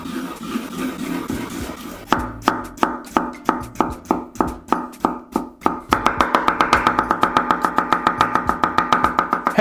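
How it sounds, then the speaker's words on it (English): A knife finely chopping cucumber strips on a board: first a series of separate, evenly spaced cuts, then a faster, denser run of rhythmic chops, close and crisp. "Cut into long strips and then you want to finely chop it"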